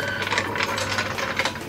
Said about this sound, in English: We just use our compressor air gun